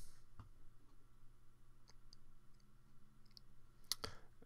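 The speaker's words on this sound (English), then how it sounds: "just scroll down and click save" Sharp computer mouse clicks while saving Dropbox backup settings in WordPress, a few faint isolated clicks spread out and then a louder double click near the end, heard alone in a quiet room.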